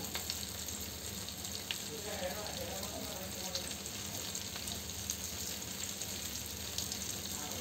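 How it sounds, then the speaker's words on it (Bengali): Chicken chaap pieces fry in a pan over lowered heat, giving a steady, continuous sizzle with faint crackles throughout, close and even in level. "এভাবে করে আমি চিকেন দুটো ভেজে নিব"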